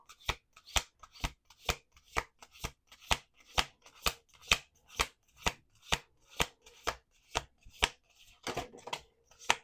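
Tarot cards are shuffled in a steady, regular rhythm of crisp slaps and riffles, about two per second, close up with no talking.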